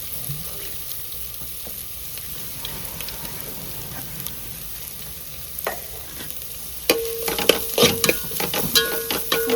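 Garlic and ginger fry in a pan with a steady sizzle under stirring. Near the end the scraping clatter of a utensil against the pan turns louder and more frequent.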